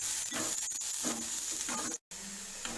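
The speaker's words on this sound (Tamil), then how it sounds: "வெங்காயம் நல்லா வந்து ப்ரௌனிஷ் ஆகுற வரைக்கும் நல்லா வந்துட்டு வணக்கி விடலாம்." Onions sizzle and fry in a pan with curry leaves while a spoon stirs them now and then, a steady close hiss with a brief drop out near the end.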